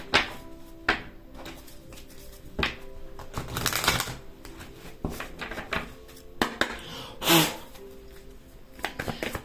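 A deck of tarot cards is shuffled by hand in bursts of riffling and flapping, with soft taps and card slaps between the louder shuffles, close up with no talking.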